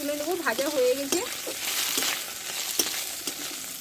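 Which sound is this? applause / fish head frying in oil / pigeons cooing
fish head frying in oil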